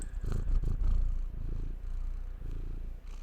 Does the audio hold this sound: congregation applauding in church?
no